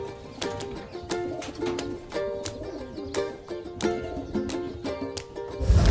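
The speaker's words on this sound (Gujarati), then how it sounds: "આ છે આપણા બધા કબૂતરો, તમે જોઈ લ્યો" Pigeons coo continuously nearby in a rooftop loft, several soft overlapping calls rising and falling, with occasional flutters and light clatter in a busy enclosed space.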